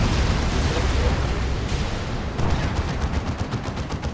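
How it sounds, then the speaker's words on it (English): A Demolisher cannon fires during a 3v3 battle in the strategy game Dawn of War 2. Loud, heavy blasts and rumbling explosions are followed by a rapid string of sharp impacts in the second half. "That's a Demolisher cannon."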